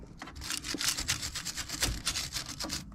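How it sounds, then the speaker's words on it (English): A wire brush scrubs grime off the two 13mm brake caliper slider bolts on the rear brakes of an Audi A6 C7, with quick, rhythmic rasping strokes close up and no talking. "give the 2 13mm bolts for the sliders, just here and here, a little bit of a clean up with the wire brush"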